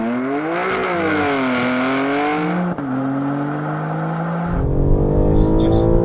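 Two BMWs, an M3 and an M4, accelerate hard side by side in a drag race, their loud engines rising in pitch with audible gear shifts and layered revs before a raspy higher surge near the end.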